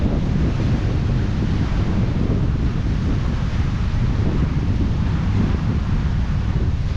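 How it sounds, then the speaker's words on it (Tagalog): Sea breeze and waves at a shoreline, a constant loud roar of wind buffeting the microphone over rolling surf, with no voices. "Ang sarap ng simoy ng hangin."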